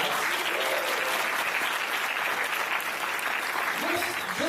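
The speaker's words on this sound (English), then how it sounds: "So please give him a round of applause." A large crowd at a live university event applauds continuously, a loud, sustained roar of clapping; a few faint voices and brief shouts rise through it near the end.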